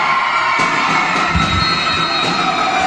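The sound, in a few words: crowd shouting and cheering at volleyball final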